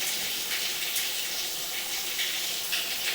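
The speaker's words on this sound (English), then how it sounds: "we'll keep that water running as we pull back" Water runs steadily through a residential sewer pipe during a camera inspection, a continuous close rushing and gushing flow with no talk over it.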